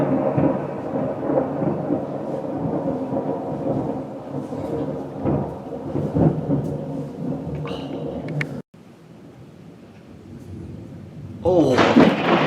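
Thunder from a thunderstorm rumbles heavily for several seconds, drops away abruptly to quiet rain-like hiss, then a fresh loud crack and rumble breaks in near the end.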